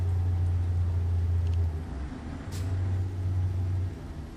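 A truck in American Truck Simulator cruising at 60 mph in the rain, a steady low engine drone that dips briefly midway with light hiss, heard alone.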